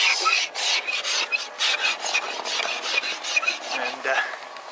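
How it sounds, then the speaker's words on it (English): A scraper rasps frost off car windows on a cold morning in steady, rhythmic strokes. The scraping is close and moderately loud, with no voice over it. "With the helping of Amber scraping the windows."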